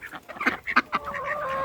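Chickens and a rooster on a farm with ducks nearby, close clucking in short bursts followed by a sustained higher call, heard without talk.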